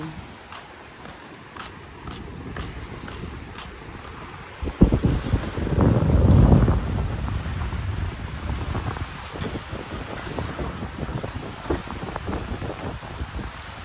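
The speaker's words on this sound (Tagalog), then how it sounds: "Hangin na, hangin, hangin, hangin." Strong wind roars and buffets the microphone at a seaside resort as rain clouds approach, with a louder gust surging midway, over a steady rushing background of moving air and water.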